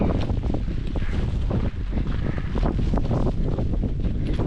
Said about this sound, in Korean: 들리세요 혹시 바람 소리